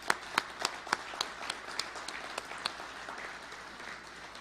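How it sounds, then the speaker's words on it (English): Applause at a Masonic meeting: a few loud, distinct claps stand out at the start, then a denser, softer patter of many hands carries on evenly, with no voices on top. "Another round of applause."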